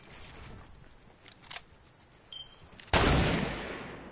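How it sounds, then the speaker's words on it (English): Gunfire in a PS4 shooter game: a couple of faint distant pops, then a sudden loud blast that rings out and slowly decays, with no talk. "Oh, somebody's shooting him."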